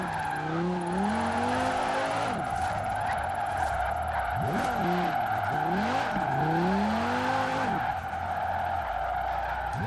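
Forza Horizon 4 video game drifting of a Cyberpunk 2077 car fitted with drift suspension and drag tires: a steady engine drone runs throughout while repeated loud tire squeals sweep up and down in long skids, with no talking.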